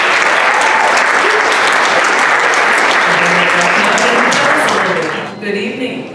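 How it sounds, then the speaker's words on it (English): An audience at a Black August 2023 community event applauds invited guests with dense, loud, sustained clapping that fills the room, then tapers off near the end. "Let's give them a round of applause"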